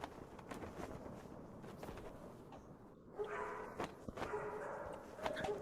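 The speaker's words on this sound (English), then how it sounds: "you hear the barking of dogs coming from what sounds like a kennel in this building here" Dogs bark from a kennel inside a building, sharp repeated barks and yips at a distance, fairly faint against a muffled background.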